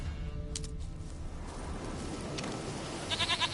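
A goat bleating in a PS4 video game, faint short bleats against a low background hum, with a brief quiet burst near the end.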